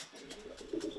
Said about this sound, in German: Die Taube ist vor dir angekommen.